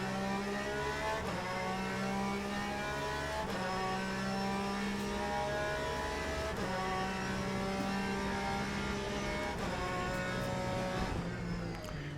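Race car engines in the Le Mans Ultimate racing game drone continuously at a moderate distance, their pitch rising in repeated accelerating sweeps with brief dips between gear changes.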